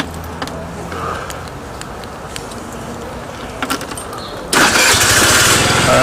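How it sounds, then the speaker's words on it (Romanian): A motor is started: quiet clicks and rattles, then a sudden loud engine catch at about four and a half seconds that settles into a steady running roar to the end. "dăm drumul la motor."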